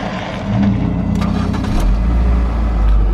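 A red maintenance truck passes on a road near an abandoned graveyard, its engine rumbling louder and closer as it goes by, a low rising drone with some rattling, heard without talk.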